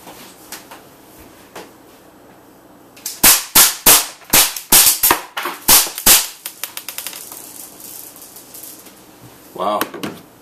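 A gun fires a rapid string of loud, sharp shots at a target, more than a dozen cracks in quick succession, then a pause and one more burst. Someone talks briefly around the volley.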